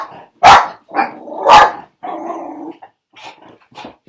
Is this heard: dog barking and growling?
yes